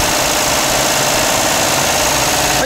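Suzuki Alto HA36S engine held at raised revs while REX combustion-chamber cleaner is fed in, a steady, dense mechanical drone with a slight knocking texture, close and loud throughout without speech.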